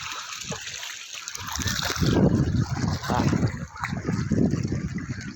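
Stream water splashes and churns loudly around legs wading through the current over a sandy bottom, with rhythmic surges of sloshing close by.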